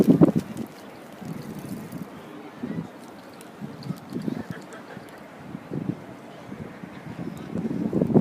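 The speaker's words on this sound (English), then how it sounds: "the wind is just very, very strong today" Strong, gusty wind buffets a microphone outdoors at a castle, rushing and thumping in uneven surges across the whole stretch, with louder blasts near the start and end.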